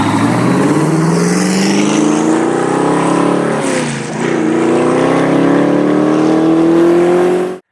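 A twin-turbo 6.3-liter V8 SSC Ultimate Aero in Forza Horizon revs hard and loud, its engine note climbing steadily, dipping briefly mid-way, then rising again to a high pitch before cutting off.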